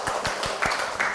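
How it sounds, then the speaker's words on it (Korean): Clapping from a church congregation giving applause to God during a Korean service, a few sharp claps in a steady rhythm, moderately loud and close over a soft room murmur. "하나님께 영광의 박수"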